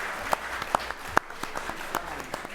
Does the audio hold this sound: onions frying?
no